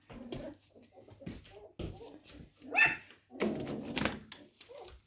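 A dog barks in short bursts, mixed with whimpers and thumps, while a person talks nearby between the barks.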